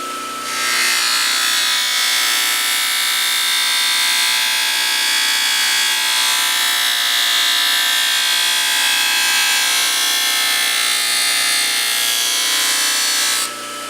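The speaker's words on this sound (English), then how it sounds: "This is pink rouge on a felt wheel as well." A felt polishing wheel loaded with pink rouge runs against the back side of a hoof knife during final polishing and sharpening, a steady high-pitched whirring grind that starts abruptly and holds loud and even to the end.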